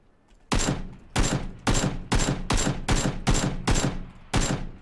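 An AK rifle fires in the PUBG video game: eight loud, sharp shots at an even pace of about two per second, each ringing out briefly, with no talking.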